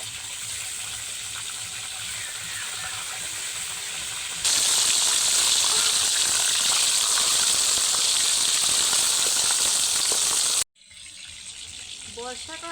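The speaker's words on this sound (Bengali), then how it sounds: "মাছের মাথাগুলো দিয়ে দেওয়ার সঙ্গে সঙ্গে চারদিক থেকে এমন তেল ছিটকাচ্ছে" Fish heads fry in hot, spattering oil in a home kitchen, a loud steady sizzling hiss that jumps sharply louder partway through, then cuts off briefly before returning more quietly.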